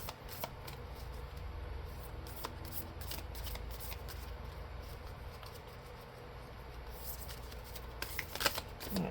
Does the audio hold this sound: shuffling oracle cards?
yes